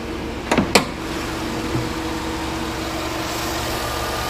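A 2008 Chevy Suburban's 5.3 liter V8 idles steadily under the open hood, a low, even hum with a couple of brief clicks near the start and no voices.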